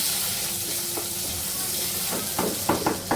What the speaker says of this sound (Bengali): আমি ডাল তেলে দিচ্ছি আর এখানে আছে মুগের ডাল